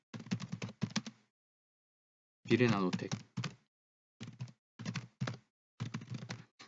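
Typing on a computer keyboard in several short, rapid bursts of clattering keystrokes separated by pauses, close to the microphone, with one brief spoken word between bursts.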